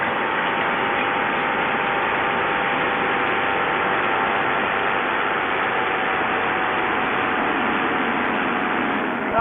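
A rebuilt motorcycle engine under rolling throttle, a loud, continuous, broadband roar with a wind-blasted rushing quality, steady from start to finish with no talking.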